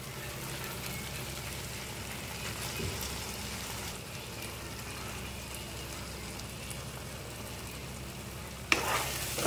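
Mutton pieces dropped into frying spice masala, a continuous crackling sizzle with stirring scrapes, fairly faint and close, then a sharp louder burst of sizzle near the end.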